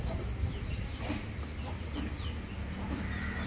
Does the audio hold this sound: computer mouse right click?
no